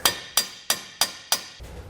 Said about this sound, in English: we are going to take a hammer here, just sort of lightly as we can